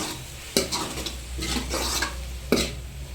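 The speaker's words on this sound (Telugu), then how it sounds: "ఇప్పుడు కొత్తిమీర వేస్తున్నా చూడండి వేసి కలుపుకొని కర్రీ రెడీ అయినట్టే" Coriander being stirred into bitter gourd curry frying in a pan, a spoon scraping the pot in several strokes with two sharp knocks against the rim over a steady sizzle, close and moderately loud.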